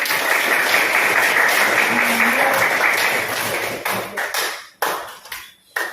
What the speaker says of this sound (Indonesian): Beri aplaus anak-anak